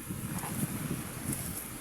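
Strong wind during net fishing for tilapia rumbles and buffets against the microphone in a steady, low roar. No other clear sound, and no talking.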